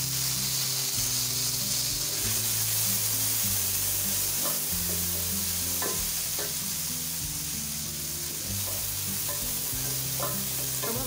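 Tomatoes go into vegetables frying in a pan for a mixed vegetable dish of potato, peas and carrot. A continuous loud sizzle runs throughout, with repeated stirring clicks and scrapes and no talking.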